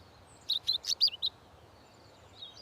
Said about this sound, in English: Chirp, chirp, chirp.